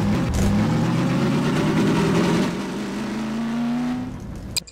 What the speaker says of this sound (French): C'est la voiture de General Lee.